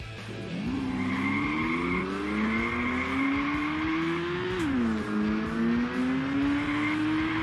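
An AI-driven car in a Unity game revs its engine with a climbing, buzzing tone while its tires squeal through a drift, the pitch rising steadily, dipping briefly, then climbing again, loud and continuous with no talking.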